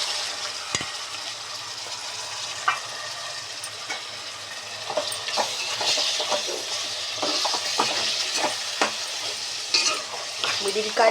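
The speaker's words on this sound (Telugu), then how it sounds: "మటన్ వేసుకుంటున్నాను." Mutton frying and being stirred in a hot pan, giving a steady sizzle broken by repeated scraping and clinking strokes of the spoon against the pan, close and fairly loud, with a few brief spoken words.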